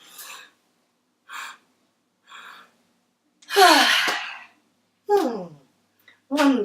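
Deep breathing during a yoga session: a series of separate breaths, soft inhales followed by louder, longer sighing exhales, close and alone with silence between them.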